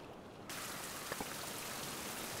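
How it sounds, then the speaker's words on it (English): Steady rain in the survival video game Survival: Fountain of Youth begins abruptly and keeps up a dense, even hiss of falling drops, with a couple of faint splashes and no voices. "Oh, it's raining!"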